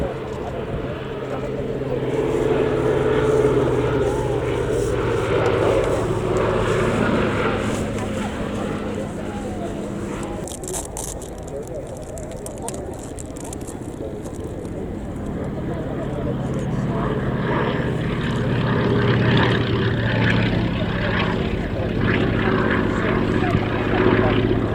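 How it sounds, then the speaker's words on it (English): A Fairey Swordfish biplane carrying a dummy torpedo flies at the RAF Cosford Airshow, its propeller engine a steady, droning rumble that swells and fades under continuous spoken narration. "you can see this Swordfish is flying with a dummy torpedo under the fuselage"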